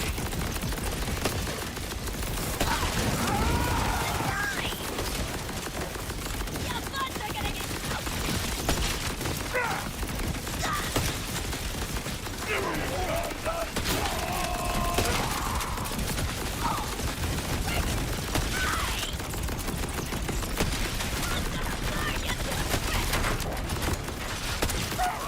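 Dense gunfire from a sniper rifle and other weapons in the shooter game Borderlands 4, a continuous loud crackling barrage of shots and mechanical clatter with no pauses, layered with occasional tonal game effects.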